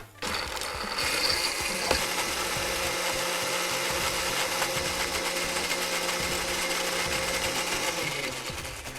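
An electric blender whirs coriander chutney with salt under its lid, a loud, steady motor drone running continuously close by for several seconds before cutting off near the end.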